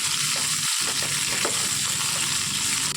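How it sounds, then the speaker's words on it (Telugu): Bitter gourds frying in oil over a slow flame, a continuous loud sizzle with brief stirring scrapes and one short pause, no voices. "వీటిని స్లో ఫ్లేమ్ మీద ఫ్రై చేసుకుందాం."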